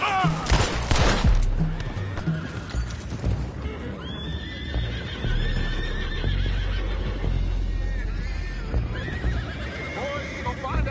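Horses whinny loudly in a video game, repeated neighs over clip-clop hooves, with bursts of gunfire early on and voices talking in between.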